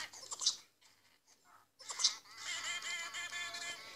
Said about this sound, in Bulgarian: И папагалите, като най-наглите, се смеят